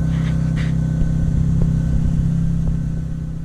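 A Ford Fiesta with a 1.0 turbo engine rumbles steadily nearby, a smooth rev briefly rising and then settling back, with no voices over it.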